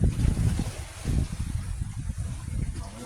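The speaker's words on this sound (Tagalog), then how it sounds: "Magalaw yung hangin" Gusty seaside wind buffets the microphone in low, rumbling bursts, with a boat-like drone underneath and no clear voices.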